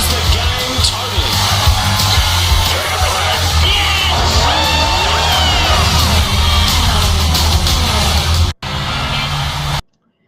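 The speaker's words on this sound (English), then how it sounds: "And you can hear the crowd." A large crowd cheers, yells and whoops continuously in a loud, dense roar that holds steady, then cuts out briefly near the end before a shorter burst resumes.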